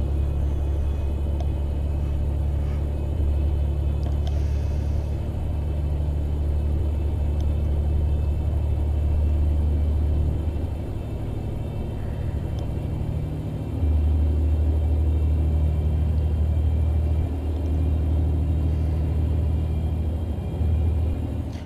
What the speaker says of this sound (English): Let me know, guys, what you think about this engine sound.